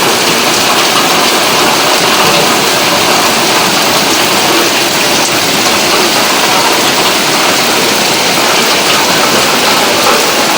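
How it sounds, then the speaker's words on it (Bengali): Steady, windless rain pours down in a dense, even hiss that stays loud and unbroken throughout, with no gusts or voices. "বৃষ্টি পড়তেছে তো পড়তেই আছে, বৃষ্টি থামার কোনো নাম নাই"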